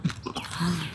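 Someone bites and chews crunchy lechon kare-kare, roast pork with crackling, close to the mic, with a few quick crisp crunches over about a second.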